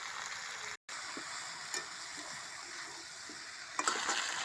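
Country chicken meat frying and being stirred in a pan, a steady broadband sizzle with a brief dropout and a couple of louder scraping touches near the end.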